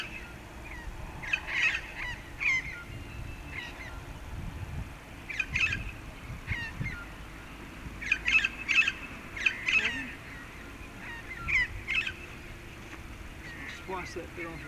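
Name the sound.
magpies squawking while swooping at a drone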